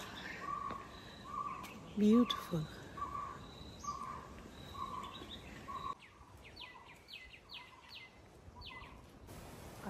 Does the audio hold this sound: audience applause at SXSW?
no